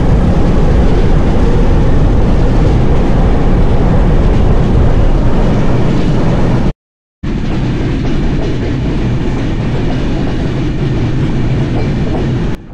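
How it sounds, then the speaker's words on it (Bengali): A train pulls into Mobarakganj railway station in Bangladesh with a loud, steady rumble and clatter of wheels on rails, heard close up, broken by one brief moment of silence midway. "অবশেষে আমাদের ট্রেনটা 8:20 মোবারকগঞ্জ রেল স্টেশনে চলে এসেছে।"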